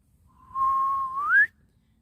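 A single whistle blast rings out clear and steady for about a second, then rises sharply in pitch just before it stops abruptly, alone against near silence.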